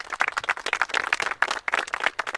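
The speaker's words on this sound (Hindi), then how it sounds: "इन तीनों के लिए जोरदार तालियां होनी चाहिए" An audience claps for three contestants on a game show, a short burst of dense, lively applause with quick overlapping hand claps at moderate volume.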